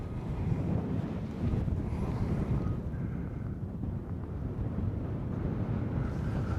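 Wind blows across an open golf course and buffets the microphone, making a steady, loud, low rumbling roar that continues throughout with slight gusting swells, with no voices.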